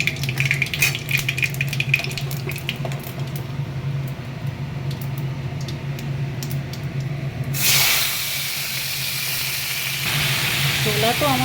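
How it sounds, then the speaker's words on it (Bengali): Five-spice seeds and dry red chillies hitting hot oil, a close hissing sizzle with crackles that swells into a louder steamy spray near the end, mixed with faint kitchen clatter. "তেলের মধ্যে 5 ফোড়ন আর শুকনো লঙ্কা দিয়ে দিলাম"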